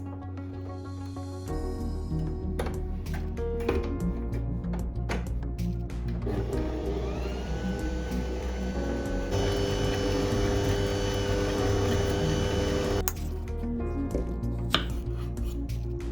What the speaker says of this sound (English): We cut apples.